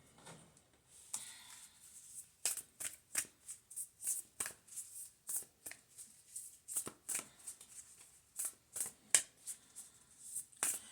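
Oracle or tarot cards being shuffled by hand, a close series of crisp riffling bursts and soft slaps in an uneven rhythm with brief pauses, no voices.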